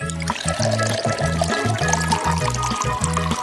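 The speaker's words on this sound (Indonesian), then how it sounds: "Sekarang kita perlu menuangkan lebih banyak susu coklat dan kopi siap pakai dari Starbucks." Chocolate milk and ready-made Starbucks coffee poured into a container, a close gurgling pour that glugs in a steady repeating rhythm, with no talk over it.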